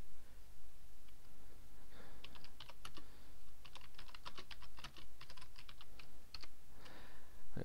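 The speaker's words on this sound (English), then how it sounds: "Let's just type it in here." Rapid bursts of typing on a computer keyboard while entering text for a new WordPress post, close and fairly quiet, with irregular clusters of key clicks and brief pauses and no talking.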